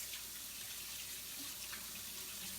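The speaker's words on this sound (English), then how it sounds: "I got to wash my hands again." Hands are washed under a running kitchen tap, a faint, steady stream of water splashing into a sink at a distance, with no talk.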